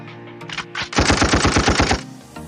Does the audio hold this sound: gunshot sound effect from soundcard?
yes